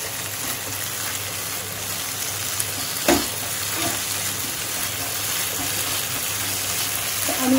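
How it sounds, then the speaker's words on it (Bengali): Egg korma masala frying in a pan, a steady soft sizzle with a brief stir or clatter partway through, fairly quiet and close. "আমি এটা আরও একটু কষবো"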